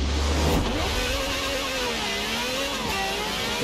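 A Lamborghini in the Forza Horizon 4 racing game revs hard as its wheels spin in snow, a loud, continuous engine whine wavering in pitch, with no talk over it.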